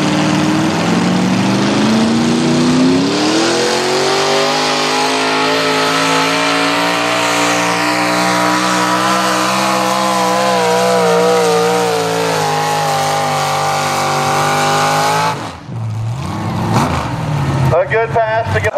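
A Chevy drag racing car in an Econo Rod class at a track in Abilene, Texas, roars loudly under full acceleration for about fifteen seconds, engine pitch climbing through the run before cutting off abruptly, with an announcer speaking.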